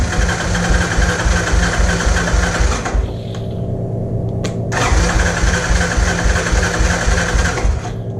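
A Honda TRX 200sx ATV engine idling with the choke on after carburetor cleaning, a loud, close, rapid mechanical chugging that briefly drops out and then returns steady.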